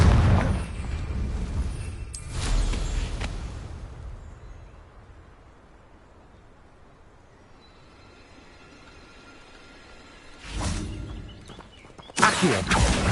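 Booming spell blasts from Confringo casts in Hogwarts Legacy, a loud broadband burst near the start, then a long quiet rumble before two more sharp, close explosions at the end.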